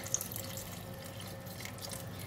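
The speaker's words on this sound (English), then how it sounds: "I put in a lot of water" Water poured into a pot to make gourd soup, a soft steady trickle and splash, faint and close with no talk.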